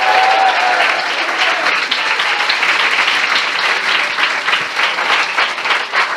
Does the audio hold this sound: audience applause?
yes